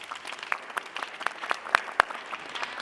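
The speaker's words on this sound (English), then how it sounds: "So why don't we give them a round of applause?" Applause from a conference audience for a panel, a fairly quiet wash of many hands with a few louder individual claps standing out nearby, and faint voices beneath.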